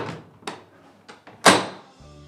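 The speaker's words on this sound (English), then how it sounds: "to hear the clunk of that front door again" Front door of a school building closing with a solid clunk, a few softer knocks leading to one louder thud near the end, close and fairly quiet.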